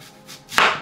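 A single knife chop through an apple on a cutting board, one sharp close thud after a brief quiet, with no talking.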